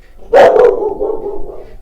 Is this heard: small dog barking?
yes